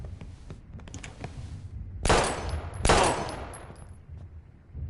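Gunfire in the Life is Strange video game: two loud, close gunshots about a second apart, each with a bright crack and a short ringing tail over a quiet in-game background.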